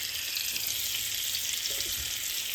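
Butter sizzling and frying steadily in a hot pan over moderate heat, a continuous bright crackling hiss with a few soft pops, close and alone with no talk.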